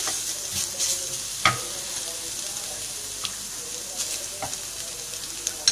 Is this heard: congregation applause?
no